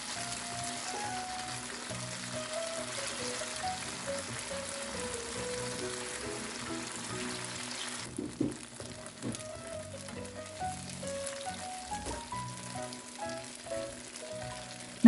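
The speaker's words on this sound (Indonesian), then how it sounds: "Ini goreng tofunya nggak perlu terlalu lama, asal sampai berkulit aja." Tofu frying in a wok, sizzling steadily with a crackling oily hiss that shifts slightly midway as pieces are moved, with no talking.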